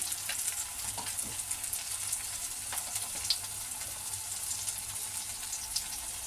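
Tomatoes and onions fry in oil in a pan for a quick potato sagu, giving a dense, even sizzling hiss with faint crackles throughout, close by and without talk.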